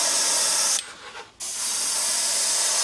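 Airbrush hissing as it sprays transparent gold paint onto a chrome fishing spoon lure, a loud steady spray that cuts out briefly for about half a second, then resumes.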